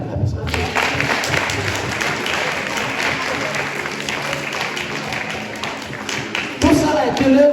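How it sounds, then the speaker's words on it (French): A church congregation at a Sunday service bursts into applause and cheering, dense clapping with a few voices rising near the end. "Est-ce qu'on peut l'acclamer?"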